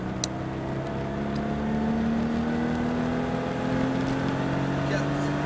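A car engine drones steadily under a driving lesson, its pitch rising gradually as the driver holds full throttle, with an instructor talking over it.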